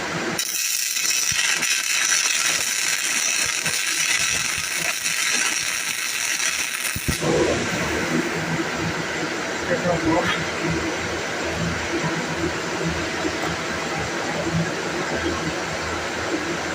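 Welding a thumb onto a part produces a loud, continuous crackling hiss that stays steady throughout, with its tone changing sharply about halfway.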